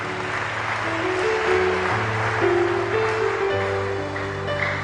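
Church congregation applauding during a Spanish-language Sunday sermon, a steady wash of clapping under sustained keyboard chords.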